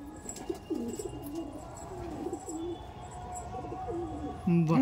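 Sulemani Kagzi pigeons coo repeatedly nearby in low, throaty rolling calls, several overlapping phrases spread through the clip with faint background hiss.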